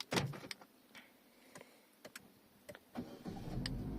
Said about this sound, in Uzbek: Mashinamiz o't oldi.